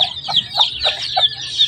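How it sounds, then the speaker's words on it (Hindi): Young chicks at a zoo clucking, a series of short, fairly loud, close peeping calls at an even rhythm, with nobody talking. "दो चूजे अंदर हैं,"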